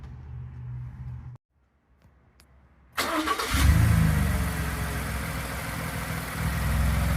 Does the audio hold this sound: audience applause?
no